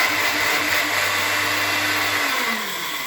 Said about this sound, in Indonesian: Ya sudah beres digiling di blender.